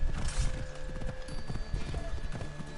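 A horse gallops in the Assassin's Creed Odyssey video game, a rapid, steady clip-clop of hooves close by that runs throughout, with game ambience beneath.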